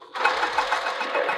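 A sewing machine stitches a fabric bucket tote in a short, steady, moderately quiet whirring run with a faint rhythmic pulse.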